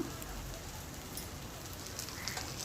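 Leftover-rice dosas fry in ghee on a hot griddle, giving a soft, steady sizzle and crackle that stays faint and even throughout.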